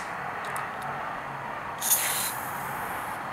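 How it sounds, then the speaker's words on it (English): Aerosol Seafoam spray is sprayed into the carburetor of an outboard engine being winterized, giving a short close hiss that rises briefly to a sharper burst before fading. "We're going to spray it into the carburetor."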